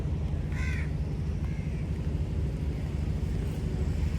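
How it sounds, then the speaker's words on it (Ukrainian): A couple of crow caws sound at moderate distance in the Maldives, set against a steady low rumble of wind and background engine noise. "Тут, до речі, дуже і дуже багато ворон."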